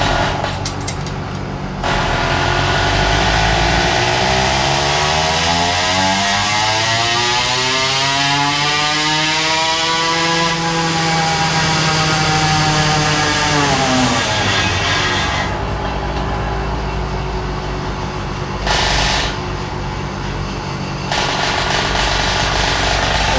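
A ported Zeda80 4.75 HP small engine revs hard through a pull, its loud buzzing whine rising steadily in pitch, peaking, then falling away before a brief drop and a return to idle-like running.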